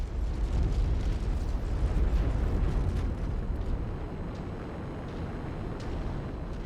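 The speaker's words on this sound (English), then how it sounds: "The transport facility has been demolished to the point of total incapacitation." A transport facility explodes in the MechWarrior 5 video game, a heavy deep rumbling blast that rolls on without break, loud and low, slowly easing toward the end.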